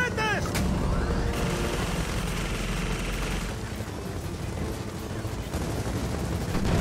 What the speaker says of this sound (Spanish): ¡Disparan cohetes!